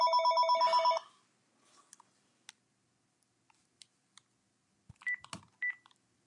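An old telephone's bell rings in one loud trilling burst, followed by scattered clicks and handling noises, then two short electronic tones near the end, in a quiet room.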